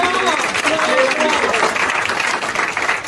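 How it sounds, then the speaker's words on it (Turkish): Theatre audience applause at a World Theatre Day stage show, a dense, steady wash of clapping filling the whole stretch without pause. "Hadi kocaman alkışlar."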